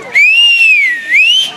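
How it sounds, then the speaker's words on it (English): A whistle is blown at a youth baseball team gathering: one sustained, loud, close shrill tone lasting over a second, wavering in pitch with a brief dip before rising again, with no talk over it. "Bring out the whistle."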